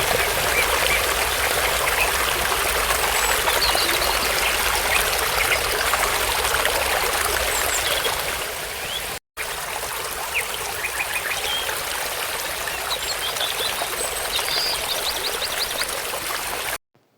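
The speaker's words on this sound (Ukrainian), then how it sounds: "Подивіться і послухайте, як тече вода." A stream flows in a steady, bright babble of running water, close and continuous, with faint bird calls now and then. No one speaks, and the sound cuts out briefly partway through.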